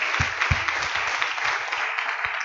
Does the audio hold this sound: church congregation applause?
yes